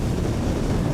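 Strong wind buffets a climber descending a steep slope, a loud, continuous roar of gusts battering the microphone with no let-up and no talk.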